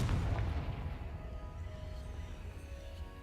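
Explosion from a Confringo fire spell in a Harry Potter-style video game, a loud booming blast with a rumbling low tail that fades slowly over a few seconds, heard alone.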